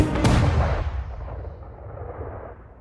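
A single heavy cannon boom from HMS Victory's guns bursts out and rolls into a long, fading rumble.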